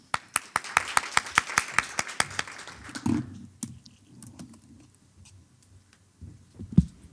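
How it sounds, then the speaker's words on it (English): Short burst of conference audience clapping welcoming a speaker to the stage at a TechNet security conference, a few seconds of scattered claps that quickly thin out into quiet room noise. "Please welcome, with a round of applause"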